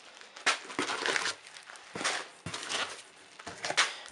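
Packing paper crinkles and rustles close up while an airsoft package is unboxed, in repeated bursts of crumpling with short pauses between them.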